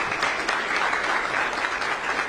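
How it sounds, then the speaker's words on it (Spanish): Audience applause at a speech in Costa Rica, a dense, steady wash of clapping from a sizable crowd, loud and continuous with no voices over it. "Otro aplauso"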